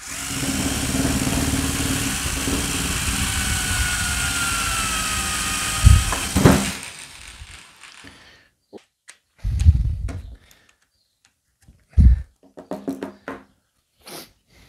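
A small electric drill drives a second drill through a wooden coupling with a loud, steady whine for about six seconds, then cuts off, followed by scattered knocks and handling thumps.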